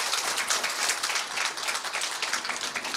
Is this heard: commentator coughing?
no